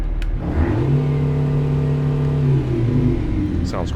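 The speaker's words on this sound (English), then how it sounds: "The truck's running currently. This thing sounds really nice." Truck engine running in American Truck Simulator, a loud droning idle with strong low harmonics that rises in pitch as it revs, holds, then settles, with a voice talking over it.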